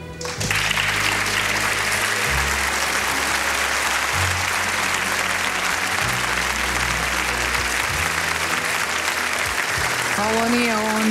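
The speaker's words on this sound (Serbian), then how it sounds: "Molim vas aplauz za gospodina Agima." A studio audience on a TV Pink show claps steadily and densely for about eleven seconds, loud and continuous, with low music running beneath the applause.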